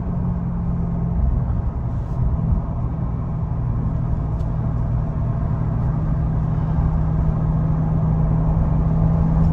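A 2022 Chevrolet Corvette C8.R with its stock, unmodified exhaust idles and revs, giving a steady, close, loud, deep engine rumble with a sustained low drone throughout and no voices.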